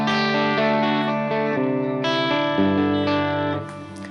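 Clean electric guitar through a Helix amp model, a chain of ringing chords and single notes played alone with a steady level and a fading tail at the end.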